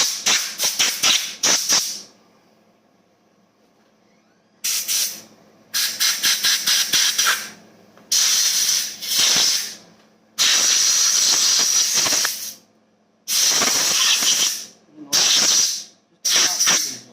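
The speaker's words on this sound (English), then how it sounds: "I'm going to take air and blow these jets and everything out here." Loud bursts of compressed air hissing in repeated blasts through carburetor jets of a Craftsman 2600 riding mower, some short and rapid, others held for a couple of seconds, separated by silence.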